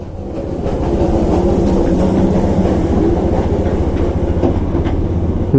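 A coal-fired steam train in Darjeeling rumbles past up close, a heavy continuous roar with rhythmic clanking wheels and rattling cars, no voices.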